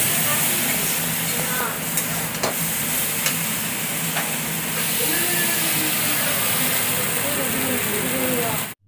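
Ghugni, a chickpea curry, cooking in a pan on the stove: a steady sizzle and hiss with occasional clinks of stirring, close by, while a person talks.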